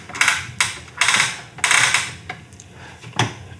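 Double-bevel 12-inch sliding miter saw, a DeWalt DWS779/DWS780 or Makita LS1219L, with its bevel knob loosened, the head tilted and the knob tightened again: a series of close metallic clunks, clicks and ratcheting taps, about eight distinct hits.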